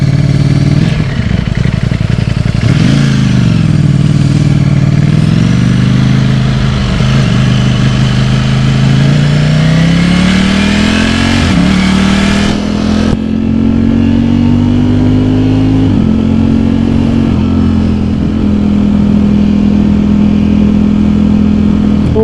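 A Ducati Streetfighter V4S motorcycle roars loudly and close in rush-hour traffic, revving up repeatedly through the gears with rising pitch, over continuous wind and road rush.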